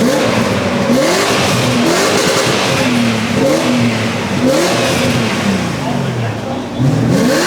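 A Lamborghini sports car at a car-season opening event in Munich revs loudly and repeatedly, its engine pitch sweeping up and down in rising and falling surges over a noisy crowd.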